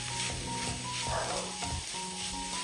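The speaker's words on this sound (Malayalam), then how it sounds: "നന്നായിട്ടൊന്ന് മിക്സ് ചെയ്യാം." Egg mixture being stirred in a hot pan for a quick, non-deep-fried snack, with steady close sizzling and scraping of the spoon running throughout.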